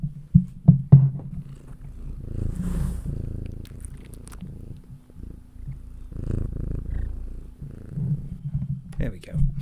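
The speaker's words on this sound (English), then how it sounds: "people will be able to hear your purring" A cat purring close to the microphone, a low steady rumble that runs under intermittent nearby talking, with a few louder bumps and rustles at the start.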